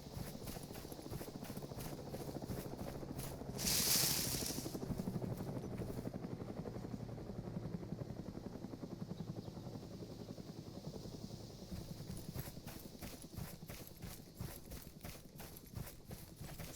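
A helicopter in the video game Arma 3 drones with a steady rotor whir and pulsing chop throughout, loud and continuous, with a brief hiss partway through and rhythmic thumps near the end.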